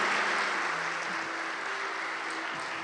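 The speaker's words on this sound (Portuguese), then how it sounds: "Aplauda ao nome do Senhor Jesus." Steady applause from a church congregation during a sermon, a dense, even wash of clapping at moderate volume with a faint hum underneath.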